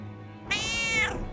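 A cat gives a single clear, drawn-out meow lasting about a second, close and fairly loud, rising then falling in pitch, with no talking over it.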